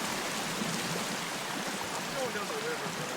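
River water flows steadily in the Sons Of The Forest video game, a soft continuous babbling wash heard faintly throughout while a player talks over it.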